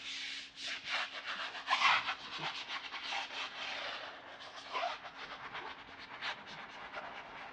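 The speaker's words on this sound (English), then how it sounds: "I'm just going to get to scrubbing right away" A brush scrubs a tire coated in rubber cleaner, making a steady run of quick, rhythmic rubbing strokes at close range, moderately loud and continuous.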